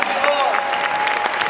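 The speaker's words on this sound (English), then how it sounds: "I can't think of a greater way to start than by giving the Lord a round of applause." An audience in an arena at a worship gathering in San Antonio applauds and cheers, a steady roar of clapping and crowd noise that lasts under two seconds.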